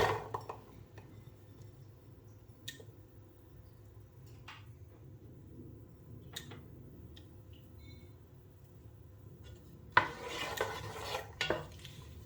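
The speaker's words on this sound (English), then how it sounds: "Just give that a bit of a stir." Onion being stirred in melted coconut oil in a saucepan, mostly a faint low hiss with occasional utensil taps against the pan, then a louder burst of scraping and clatter near the end.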